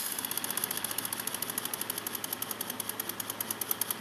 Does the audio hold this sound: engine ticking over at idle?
yes